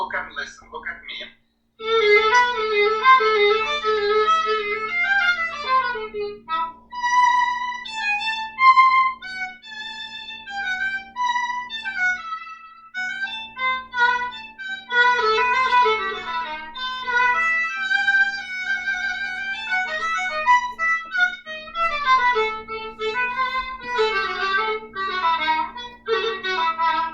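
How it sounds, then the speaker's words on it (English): Bowed string instrument playing a sustained melodic passage with a crescendo, the bow drawn from the upper half toward the frog; rich harmonic tones swell and fall continuously, close and fairly loud, with no talking over the playing. "The next part starts an upper part of the bow, and you gradually, as you do the crescendo, travel towards the frog."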